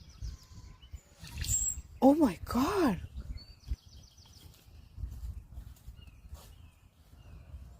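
A bird in a park gives a few sharp, rising whistled calls and chirps up close, brief bursts separated by quiet gaps, with a person speaking softly around them.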